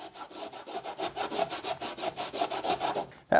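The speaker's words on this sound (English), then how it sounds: "Get in here with the old Scotch-Brite." A Scotch-Brite pad scuffs rusty, acid-treated metal on a 1967 Dodge Dart, about twenty quick, even back-and-forth rasping strokes close up, with a brief sharper scrape at the end and no talk.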